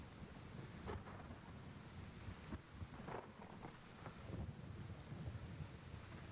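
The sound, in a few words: rain hitting a tarp in video game Gray Zone Warfare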